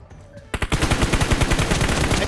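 Rapid automatic gunfire in a 2v2 team deathmatch video game, a loud close burst of evenly spaced shots that starts abruptly and keeps hammering to the end.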